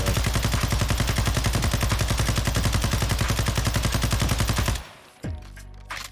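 A meta assault rifle fires in Warzone 2 as a loud, sustained full-auto burst of rapid, evenly spaced shots lasting several seconds, then breaks off abruptly into quieter game sounds.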